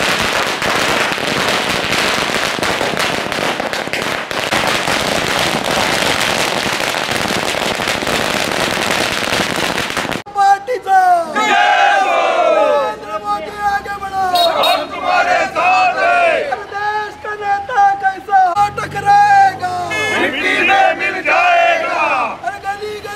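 BJP workers and leaders celebrating an election win in Ratnagiri with a loud, dense rattle of firecrackers for about ten seconds, then a crowd shouting victory slogans and cheering in waves.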